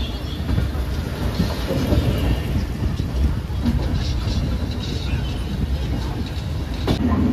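A passenger train pulls out of Chennai Central station with a continuous heavy rumble of rolling carriages and gusty wind noise, loud and close throughout.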